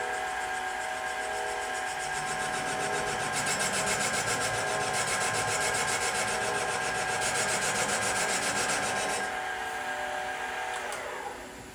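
A Serdi valve seat cutter grinds an engine valve seat with a continuous, close scraping rasp that swells midway and tapers off near the end.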